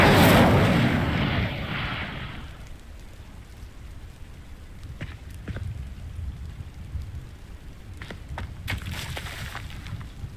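Incendio fire spell cast in Hogwarts Legacy, a loud whooshing burst of flame at the start fading into a low crackling burn, with faint scattered snaps afterward.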